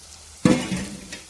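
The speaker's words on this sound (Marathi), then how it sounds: "लसूण आणि खोबरं चांगलं लाल होऊन द्यायचं" Garlic and coconut hit a hot pan with a sudden loud sizzle, then keep frying in a steady crackle that slowly eases, with faint stirring and no voices.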